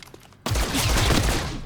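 A burst of gunfire in the tactical video game Chimera Squad erupts abruptly after near silence, a loud, dense volley that keeps rolling for over a second.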